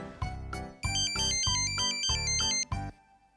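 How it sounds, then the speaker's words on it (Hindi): A phone ringtone plays a bright, repeating electronic melody in short bursts, loud and close, with no talking. "तुम्हारा ही फोन होगा।"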